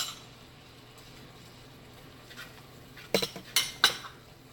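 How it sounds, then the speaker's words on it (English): A spoon clinks against a bowl while cornstarch slurry is stirred, giving four or five quick, light taps after a quiet stretch, close and fairly soft. "I'm mixing a little cornstarch slurry, because I want it to be a little thicker"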